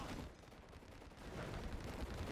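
Rapid crackling gunfire and distant booms as a base comes under attack in C&C Generals Zero Hour, a quiet, dense burst of shots lasting a couple of seconds.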